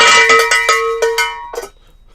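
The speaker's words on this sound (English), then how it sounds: "ring the bell, Walter, ring the bell" A metal bell, cowbell-like in tone, is struck repeatedly in a quick, uneven series of loud clanging hits, the last ring left to decay into silence.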